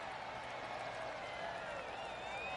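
A golf crowd in a video game claps steadily with a dense, continuous rattle, heard from a distance at fairly low volume.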